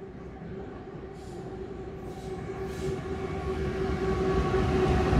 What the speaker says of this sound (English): This would be a empty grain train